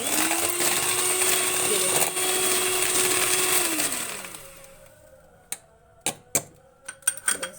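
An electric beater whipping coffee for cappuccino gives a steady, loud motor whine for about four seconds, then winds down and stops, followed by scattered sharp taps and clicks against the bowl, with a brief voice.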